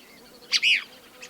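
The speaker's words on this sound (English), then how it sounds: "below the lone pine where the Cassin's kingbird continues calling" A Cassin's kingbird calls once among silver sagebrush below a lone pine, a sharp two-part chirp, the second note a buzzy rising-falling burr, moderately near and alone over faint background.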